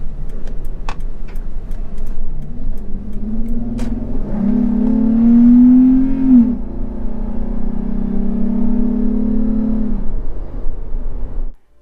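A Toyota 4Runner fitted with an S&B air intake pulls away from a traffic light, its engine note swelling into a loud, steady rising drone that holds for several seconds before easing off.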